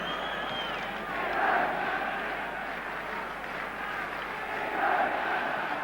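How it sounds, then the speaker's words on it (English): A huge stadium crowd at the 1966 World Cup Final between England and West Germany keeps up a dense, continuous buzz of murmuring and shouting. The roar swells in a few places and stays loud throughout. "Crowd buzzing, arguing, wondering, are Germany going to pull it out of the bag again"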